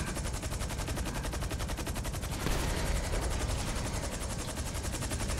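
Rapid automatic gunfire from the video game GTA Online rattles on in a fast, dense burst throughout, steady and continuous, with no talk.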